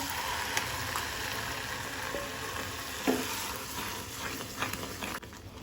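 Dal hits a pan of sizzling ginger tempering for Goan-style dal fry, giving a steady close frying hiss with soft stirring scrapes and a few sharper spatula knocks against the pan.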